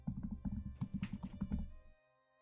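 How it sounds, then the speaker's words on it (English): Quick, close keystrokes rattle on a computer keyboard that is not plugged in, a brisk burst of clicks that stops abruptly. "I was typing on a completely unplugged-in keyboard"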